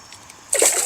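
A released catfish drops back into river water with a single sharp splash, followed by a short wash of spray and sloshing, close and fairly loud.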